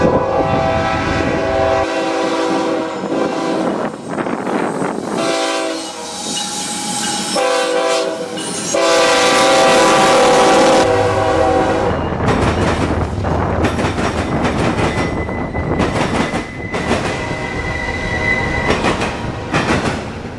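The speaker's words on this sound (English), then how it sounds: "this train was all auto racks" A freight train made up entirely of auto rack cars rolls past close by in Central Florida, its horn blaring in long blasts over a steady clatter of wheels, squeals and rumbling cars for the whole stretch.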